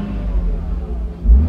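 A car engine runs with a low, steady rumbling purr, close by, swelling slightly near the end.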